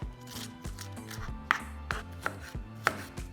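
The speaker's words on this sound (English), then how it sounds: "We have our jalapeños are nice and chopped." A knife chops jalapeños rhythmically on a cutting board, sharp knocks at a steady pace with a faint musical backdrop underneath.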